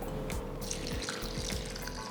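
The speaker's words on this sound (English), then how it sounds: "Wash them well, pour enough water and let this soak for about 30 minutes." Tap water runs steadily into a bowl while raw rice and toor dal are rinsed by hand, a close, continuous splashing with small sloshes and drips.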